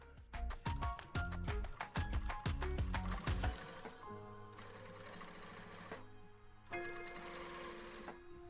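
A domestic sewing machine topstitching with a lengthened stitch of about 3.2 to 3.5, running in quick rhythmic bursts up close, then dropping to a steadier, softer hum with short pauses.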